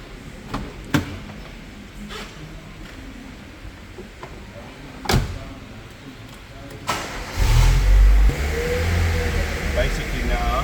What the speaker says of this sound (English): Basically now, we are just getting it up to the 4th gear and getting it to the 3000 RPM mark.